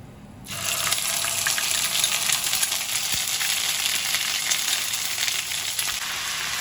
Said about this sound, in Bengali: এবার আমি এই তেলের মধ্যে 2 চামচ আদা বাটা দিয়ে দিচ্ছি